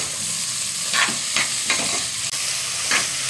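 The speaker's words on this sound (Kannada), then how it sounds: "ಮತ್ತು ಆಲೂಗೆಡ್ಡೆನ ಕೂಡ ಹಾಕ್ಕೊಂಡು ಸ್ವಲ್ಪ ಫ್ರೈ ಮಾಡ್ಕೊಳ್ಳೋಣ ಎಣ್ಣೆ ಜೊತೆಗೆ" Drumstick and potato pieces frying in oil for bisibele bath give a steady close sizzle, broken by several soft scraping strokes of stirring in the pan.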